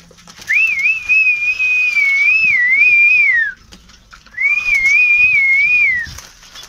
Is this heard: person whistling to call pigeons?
yes